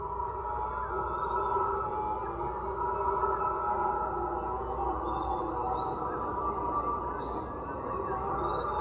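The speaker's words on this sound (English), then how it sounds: "This is the howler monkey" Howler monkeys in Panama howl as a steady, droning roar that swells slightly and sounds distant, continuing for about nine seconds with no voices.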